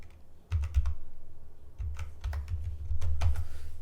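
Typing on a computer keyboard, close and clear, with quick clusters of key clicks in uneven bursts and short pauses between them, alone without talk.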